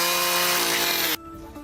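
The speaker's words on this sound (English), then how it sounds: "the sound of a chainsaw usually means destruction, but not in this case" Chainsaw running hard as it cuts into an old tree, a loud dense buzzing roar that suddenly drops to a lower idle after about a second.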